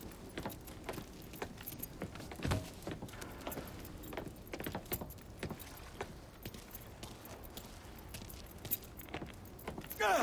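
Car keys jangle in the Mafia 3 video game played on Xbox One X: a steady run of light metallic clinks and rattles, quiet and close, with faint vehicle noise underneath.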